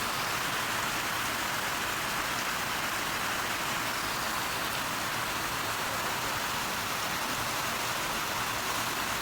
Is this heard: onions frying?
no